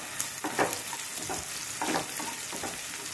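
Onion frying in a pan for Maharashtrian zunka, cooked until reddish: a low, even sizzle with several brief scraping stirs spaced through it, close and fairly quiet, no one speaking.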